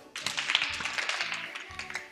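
Children in a church class game burst into applause, a busy patter of many hands clapping, steady and fairly close, with faint voices mixed in.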